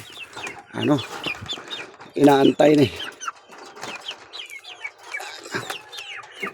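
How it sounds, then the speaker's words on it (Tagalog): Hens clucking in short bursts close by, with someone talking over them and a louder flurry of clucks midway. "Nag-aalaga tayo ng manok"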